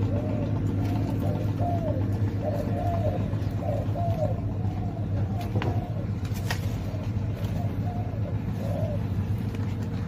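Repeated chirping calls from a decoy bird ring out in short bursts over a steady low rumble of engine noise, fairly close and persistent throughout.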